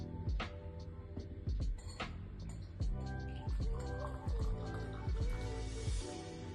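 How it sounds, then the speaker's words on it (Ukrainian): Hot water is poured into a glass, giving a steady liquid stream with gurgling and rising filling tones and a few clinks, heard alone and close by for several seconds. "Наливаємо гарячу воду в склянку."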